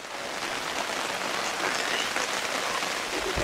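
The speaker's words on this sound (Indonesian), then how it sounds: "Spoil sikit sebab hari hujan ni." Steady rain pours down at a campsite in Kampung Sapit, Padawan, a dense continuous hiss of drops hitting surfaces, loud and unbroken with no voices.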